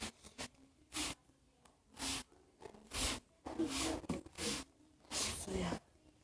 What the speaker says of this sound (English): I'm gonna spray on my tape first.